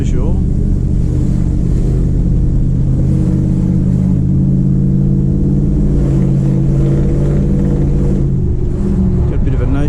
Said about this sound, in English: Got a bit of a note to the exhaust.